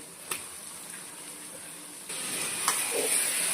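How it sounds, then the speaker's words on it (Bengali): Chicken pieces frying in a spiced masala for imli chicken, a steady close sizzle that grows louder partway through, with a couple of light clinks from stirring. "এবার আমি এই চিকেনগুলো দিয়ে দেব"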